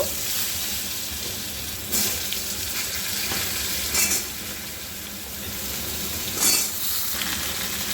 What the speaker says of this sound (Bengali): এই তেলের মধ্যে ওল আর আলুটা একসাথে দিয়ে আমি ভেজে নেব